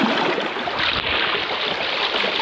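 A shallow river flows past where people are about to wade across on the way to a farm field. It is a loud, close, continuous rushing wash that stays even throughout, with no voices.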